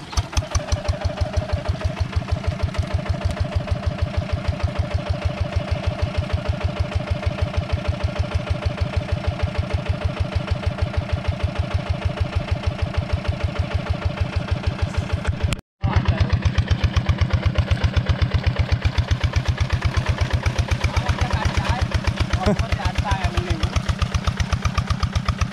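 A four-wheel tractor engine working a rice field in Soppeng, South Sulawesi, chugging in a steady, rapid, close pulse that runs on and on with a brief break midway, then resumes.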